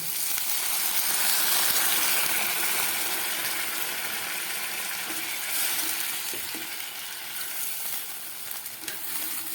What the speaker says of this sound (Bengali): এবার দিয়ে দিচ্ছি জল